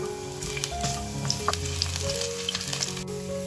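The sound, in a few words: ginger and garlic frying in oil in a pan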